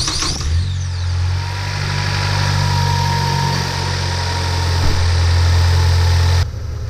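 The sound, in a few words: Ford Escape 2.0L engine idling after oil change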